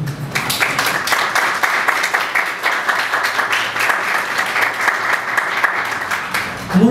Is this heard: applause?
yes